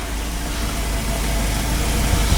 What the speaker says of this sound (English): That's the engine running anyway.